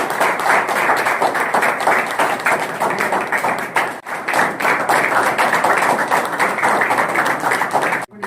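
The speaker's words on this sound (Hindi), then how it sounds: "जरा जोर से ताली बजाइए" Loud, close audience applause at an event on de-addiction and Ayurveda, rapid dense clapping sustained for about eight seconds with a brief dip midway and an abrupt stop at the end.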